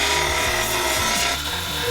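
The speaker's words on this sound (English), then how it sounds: "Now what I'm gonna do is just belt grind the paint off so that when I weld it," A belt grinder strips paint from the B-pillar of a Jeep in one continuous, loud, rough grinding pass at close range.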